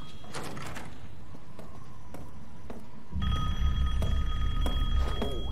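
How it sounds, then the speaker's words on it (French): A telephone rings in the horror video game Resident Evil Village, with a bright ringing tone starting midway over a low, dark ambient background. It follows scattered faint knocks and creaks. "Quelqu'un attend un téléphone?"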